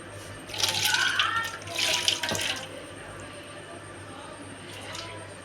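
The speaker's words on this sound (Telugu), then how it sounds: "కొన్ని గిన్నెలు అడిగి వాటర్ వేద్దాం" Water poured into a cooking pot of spiced curry, two loud close splashing gushes in quick succession, then quieter trickling and a last small splash.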